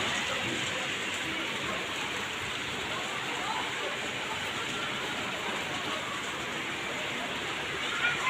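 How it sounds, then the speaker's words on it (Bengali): Heavy rain pours down during a stormy, windy spell in Dhaka, a dense, steady hiss of water on surfaces that stays loud and unbroken throughout. "বৃষ্টি আরো জোরে আসতেছে"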